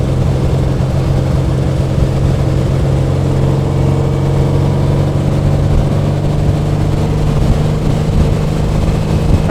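A 1955 Porsche 550 Spyder replica driving and accelerating, its engine a loud, steady, close drone with a rising tone, heard from inside the open car under wind noise.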